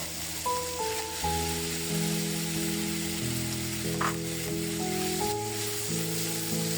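Chicken pieces hit a hot pan coated with ginger paste and sizzle steadily and close up, with a bright crackle throughout and background music playing over it.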